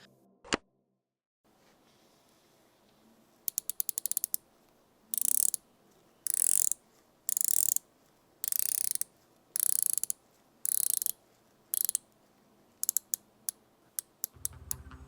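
Crisp, high-pitched ratcheting clicks of a dive watch bezel come in short bursts, about eight evenly spaced runs of rapid ticks, close up in a quiet room.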